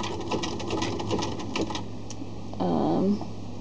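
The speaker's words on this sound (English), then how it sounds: "then you just go along, sewing your fabric" A sewing machine stitches knit fabric with a steady close mechanical whir and rapid needle ticking, swelling briefly louder near the end.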